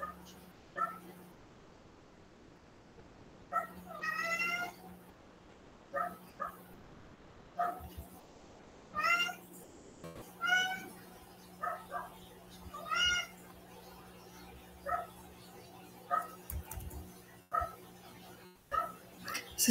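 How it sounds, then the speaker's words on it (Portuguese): Cats meowing and dogs barking around a residential neighbourhood at night, with repeated short calls and yelps scattered through the clip at moderate distance over a quiet background hum. "Vocês estão ouvindo sons aqui da minha vizinhança? Tem gatinho, tem cachorro, tem toda uma vida aqui na volta do bairro."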